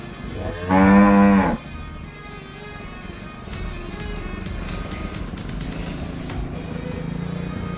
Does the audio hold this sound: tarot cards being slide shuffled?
no